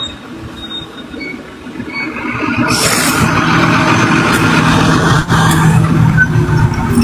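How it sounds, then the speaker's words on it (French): Heavy trucks rolling past on a road in Côte d'Ivoire, a steady loud engine and tyre rumble that swells and holds for several seconds, with a brief hiss partway through and no talk. "C'est que 2 camions, ça là."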